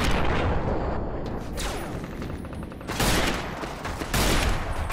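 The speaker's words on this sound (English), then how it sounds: "I just shot out his hand." Gunfire in Fallout: New Vegas: rapid overlapping shots and bursts crack loudly, with heavy booming impacts and a dense, chaotic firefight texture that surges in waves over five seconds.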